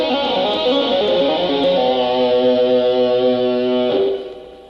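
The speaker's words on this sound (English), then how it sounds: "show you what you can do with that same lick using all 4 of your fingers on your right hand" Electric guitar rock lick played with all four right-hand fingers, a fast run of clear sustained notes with light distortion, played alone and ending in a ringing note that fades out.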